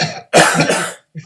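One person coughs and clears their throat up close: a short raspy burst, then a brief trailing clear.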